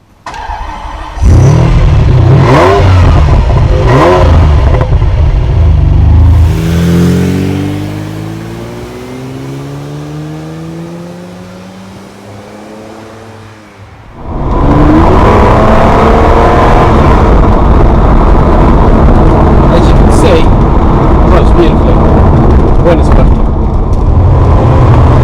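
A cheap used Ferrari V8 capable of almost 180 mph starts up and accelerates hard on a drive, loud revving rising through gears, a brief lift and gear change, then strong engine roar resumes close up.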